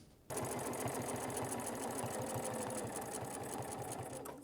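A domestic sewing machine stitches steadily during ruler quilting, with a fast, even mechanical whir and rhythmic needle thumps, close and continuous until it slows at the end.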